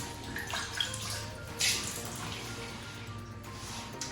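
A steady, soft stream of ionized water pours into a glass, a quiet continuous trickle with a brief splashier swell partway through and no talking.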